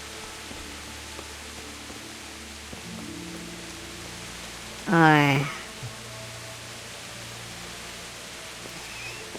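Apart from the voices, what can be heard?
rain falling in the video game Kingdom Come Deliverance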